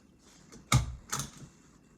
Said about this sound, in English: So I'm stapling the bunny's ears.